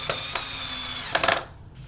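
A power drill driving screws into a 2x4 for a Jeep Wrangler hardtop hoist, with several short whirring bursts of screwing that drop to near silence at the end.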